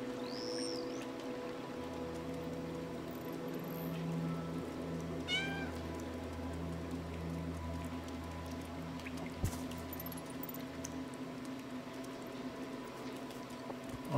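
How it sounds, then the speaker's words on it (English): In the video game Stray, a cat lets out a few soft, short meows against a steady low hum and light dripping patter, with one faint meow early and another near the middle. "Oh, when you meow, one of them must come to you."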